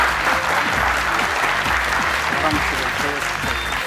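A crowd applauds heartily in the studio of the Afghan game show Ro Dar Ro, modeled on Family Feud: thick, even clapping, loud and near, lasting the whole moment with a voice faintly underneath.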